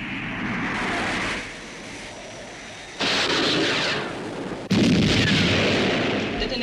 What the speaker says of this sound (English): Commencing missile sequence. Firing